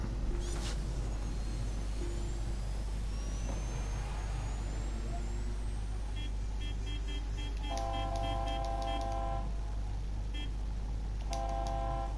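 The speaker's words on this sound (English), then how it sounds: "Sparrow Symphony. Honk honk." Sparrow vehicle horns in the game Destiny honk in repeated toots over a steady engine drone, several players sounding them in overlapping bursts that cluster in the later half.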